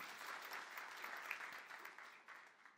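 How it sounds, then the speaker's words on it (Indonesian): A church congregation breaks into applause, a fairly faint, dense spread of clapping hands that holds steady and tapers slightly toward the end. "Tepuk tangan yang meriah untuk kemuliaan"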